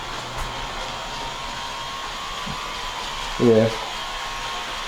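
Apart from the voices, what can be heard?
Chevy Impala fuel pump running, starting to suck air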